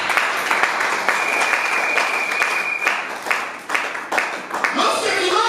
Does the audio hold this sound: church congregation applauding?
yes